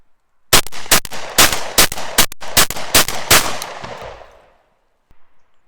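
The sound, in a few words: Benelli M2 semi-auto shotgun firing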